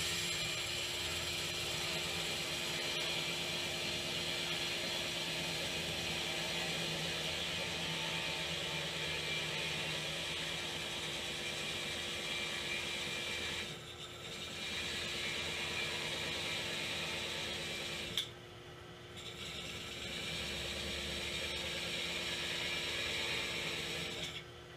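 A carbide hole cutter bores steadily through metal with a continuous grinding whir that runs for most of the stretch, dipping briefly twice, with no talk.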